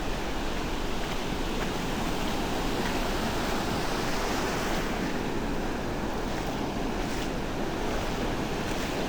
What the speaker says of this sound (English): There's a bit of a surge in the water. It's not rough water, but it is a bit surgy.